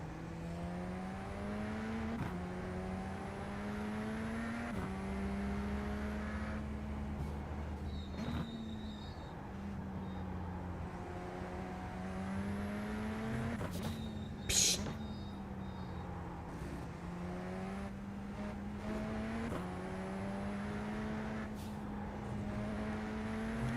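A race car engine in the iRacing video game drones and shifts pitch through gear changes and revs, with whining tones and brief blips, steady and prominent under a speaking voice.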